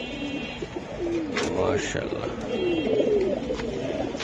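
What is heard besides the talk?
pigeons cooing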